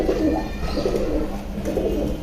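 A male Bagha pigeon with a parrot-like head shape coos in soft, repeated low rolling phrases, close by and fairly loud in a quiet loft.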